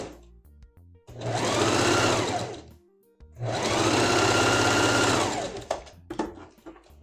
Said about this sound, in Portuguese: Vou passar uma costura onde eu fiz a dobra para depois virar ele